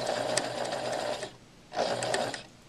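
A sewing machine stitches fabric in reverse on a practice seam with a 1/2-inch allowance, running in a steady close whir, pausing briefly, then running again.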